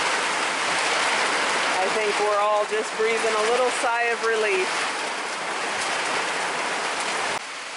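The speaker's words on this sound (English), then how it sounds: "We so needed this rain." Steady rain falls in a drenching downpour, a dense, even hiss that stays loud throughout while someone talks over it for the first few seconds.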